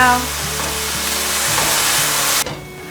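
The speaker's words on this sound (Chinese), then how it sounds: "把马铃薯炒至微焦" Potatoes stir-fry in oil in a pan, a loud steady sizzle with scraping stirs throughout that cuts off sharply near the end.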